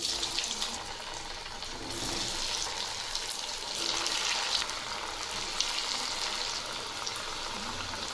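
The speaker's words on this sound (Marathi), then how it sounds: "तेल गरम झालं आहे यामध्ये आपण बट्ट्या सोडू" Sliced dal batti pieces drop into hot oil and fry, making a steady, close, even hiss and bubbling sizzle throughout, with no speech.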